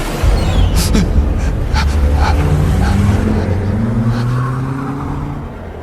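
A car engine revs hard as the car accelerates away from a bridge at night, its droning pitch climbing steadily and loud before easing slightly toward the end.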